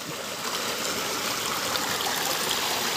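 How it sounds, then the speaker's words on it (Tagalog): Small waterfall along the way to Sitio Balingaso, San Jose Occidental, Mindoro, its water murky and dark, pours in a steady, dense rush that stays loud and even throughout with no voices. "Buhay na buhay yung falls dito."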